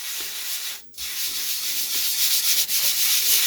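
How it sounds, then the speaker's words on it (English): Coarse automotive cutting compound is rubbed by hand over the case of a 1963 Biennophone Verbier 6303/03-HE Swiss radio, making a steady gritty abrasive scrubbing with one short break, close and continuous, with no voices. "You can hear how coarse it is as I rub it back."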